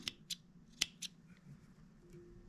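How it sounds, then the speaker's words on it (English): Scissors snip the long legs on a hand-tied Long Leg Stone nymph, a few quiet, crisp metallic cuts up close, then soft handling noise fills the pause. "And I trim the legs, but these are left quite long."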